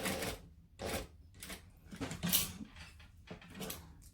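A sewing machine back stitches a seam on a bag, running in short buzzing bursts about every half second, close and moderately loud, with brief pauses as the stitching direction reverses.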